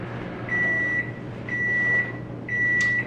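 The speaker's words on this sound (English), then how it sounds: "So I'll get that out of the microwave and get that to him." A microwave oven finishes with three identical electronic beeps, each about half a second long and evenly spaced, ringing over the steady hum of the running appliance.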